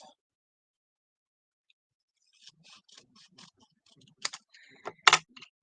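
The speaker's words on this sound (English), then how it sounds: "I'm going to cut that in half" Scissors snip through a punched cardstock shape in a quiet papercraft setting, a run of soft cuts building to a few sharper, louder snips near the end, with no talk.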